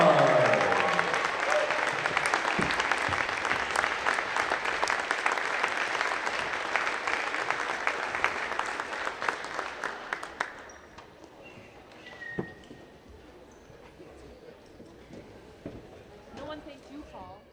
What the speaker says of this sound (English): let's give them one more big round of applause for an exceptional group of young men